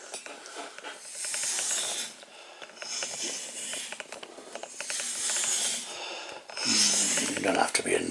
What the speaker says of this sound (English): I've got a belt here, right. It's just an ordinary belt, right. And I'm just going to run it through like this a few times